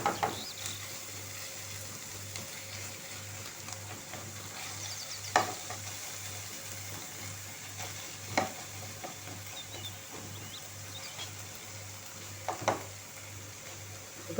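Chicken liver with red pepper frying in a pan gives a steady close sizzle throughout, with occasional soft stirring knocks and scrapes rising over the hiss.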